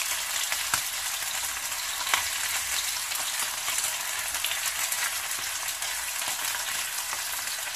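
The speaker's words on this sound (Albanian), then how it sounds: "Bien pak të skuqen." Lamb intestines (kukurec) fry in a pan for an Albanian baked dish, a steady dense sizzle and crackle close-up throughout, with occasional sharper pops and no talk.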